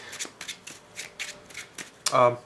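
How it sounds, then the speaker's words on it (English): A trading card deck being power shuffled at a card table, a run of quick crisp riffling bursts repeating in a steady rhythm, close and clear, ending with a louder rustle. "Power shuffling up."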